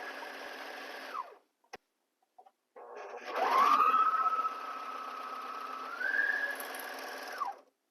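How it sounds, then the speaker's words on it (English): A serger runs around the neckline of a chemise dress for a Renaissance costume, a steady loud mechanical whir that stops briefly, then resumes in a long continuous run, slightly changing pitch before winding down, close up with no talk. "I'm going to do a stitch all the way around the neckline here to finish off this edge"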